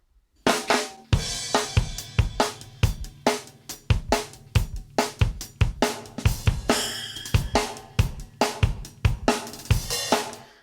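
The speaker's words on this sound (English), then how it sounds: "I'll bring in just the room reverb" An acoustic drum kit plays a steady groove, hits ringing out into a spacious, roomy reverb tail between strikes.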